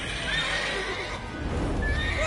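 Roach, a horse in the Witcher 3 video game, gives a clear whinnying neigh alone, with faint hoof clip-clops beneath.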